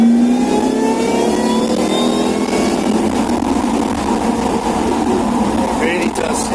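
A car engine with modified air ducts and a mina gallery intake revs loud and close, a steady rising intake roar that holds for several seconds before easing off.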